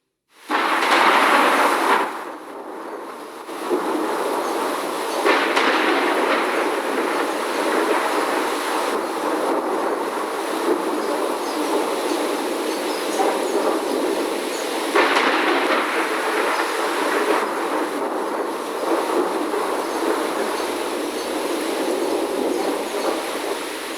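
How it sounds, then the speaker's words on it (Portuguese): Deep, sustained rumbling roars and rolls for over twenty seconds with surging swells, loud and broad like a long thunderclap. "Você sabe como é o som do trovão? É assim."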